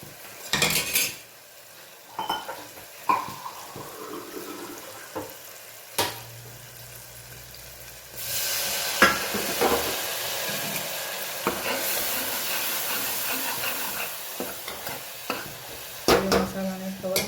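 Spiced masala of chilli powder, turmeric, coriander-cumin and salt with a little water, frying in a pan while a spoon scrapes and stirs it; intermittent metallic clinks over a soft sizzle, close by, with no talking.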